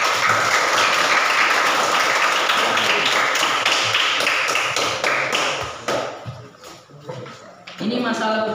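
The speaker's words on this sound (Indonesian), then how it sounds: "Tepuk tangan untuk kelompok 1." Classroom applause for a student group during an Indonesian teaching practice lesson, with dense clapping and taps filling most of the stretch, thinning out near the end as a voice begins speaking.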